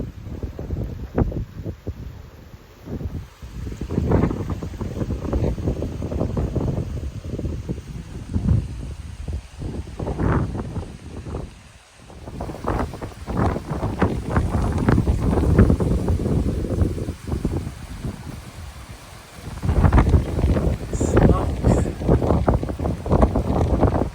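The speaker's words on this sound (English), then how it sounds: "Wow, the wind's picking up." Strong gusting wind during a Phoenix dust storm buffets the microphone in loud, roaring surges that swell and ease repeatedly, close and continuous throughout.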